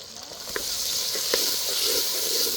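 Small onions sauté in a pan with a steady close sizzle, broken by a few quick stirring scrapes, and no voices over it.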